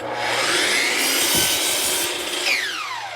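A miter saw cuts a 15-degree angle through a wooden board for a planter box, giving a loud, continuous rasping cut that ends with the blade's whine sliding downward as it spins down.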